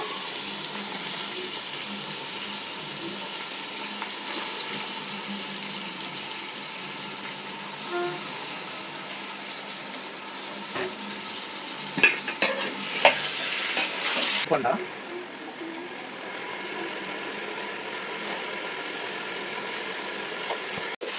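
Chicken leg pieces and basmati rice for biryani are stirred in a pot with turmeric. A steady low sizzle runs throughout, and a few metal clinks and scrapes come in the middle.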